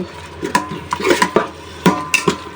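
Curry with ginger, garlic, cumin paste and whole spices stirred in a pressure cooker pot, heard as close, irregular metal scrapes and clanks of a spoon against the pot over a faint sizzle, with no voices.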